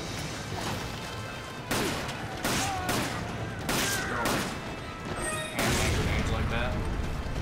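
Gunfire bursts and grenade blasts from the Resident Evil: Desperate Escape video game, loud repeated cracks and booms in several clusters with a steady game backdrop and players talking over it.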